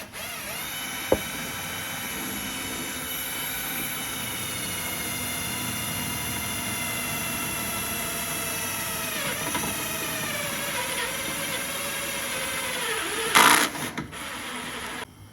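A power drill whines steadily and close up for the whole stretch, enlarging a hole in plastic for a sensor clip on a Hyundai Veloster N, with a brief sharp burst of grinding near the end as the bit cuts through.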